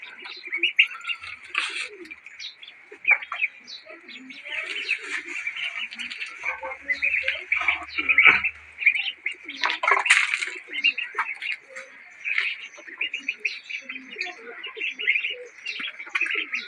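Growing ducklings being bathed chirp in rapid, high-pitched bursts close by, a busy and uneven chorus that rises and falls throughout.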